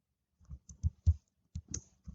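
Someone types an Excel formula on a computer keyboard, a handful of distinct clicking keystrokes in an uneven rhythm, close and fairly quiet, with short pauses between presses and no talk.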